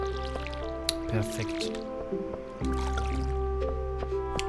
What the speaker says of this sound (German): Ah, da ist jemand schon am Gießen.